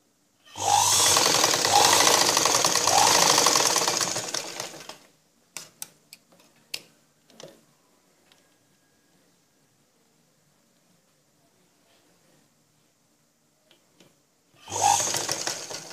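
A sewing machine stitches a blouse in a dense, steady mechanical whir for several seconds. A few clicks and a long quiet gap follow before another short run of stitching.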